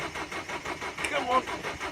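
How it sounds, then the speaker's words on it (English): A cold van diesel turns over on its starter, a steady rhythmic cranking that churns on without catching under a voice. "It's spinning over."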